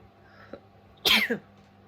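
A single sharp sneeze bursts out close by after a moment of near quiet, followed by a short trailing breath.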